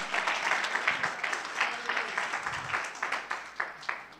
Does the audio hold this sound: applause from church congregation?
yes